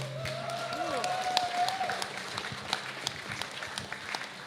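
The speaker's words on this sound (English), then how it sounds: "Ladies and gentlemen, please, a round of applause for Ray." Crowd applause for a competitor named Ray at a beetleweight combat robot tournament, a moderate wash of clapping that holds steady and then thins toward the end, with a brief tonal whine early on.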